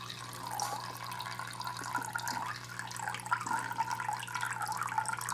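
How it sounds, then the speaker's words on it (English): Steady water stream pouring from a DIY aquarium nitrate filter into the tank, a soft continuous trickle and splash at close range over a low constant pump hum, with no speech. "Nice stream going on."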